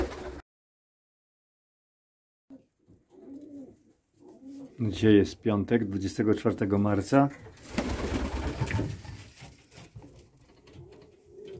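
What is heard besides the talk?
pigeons cooing in loft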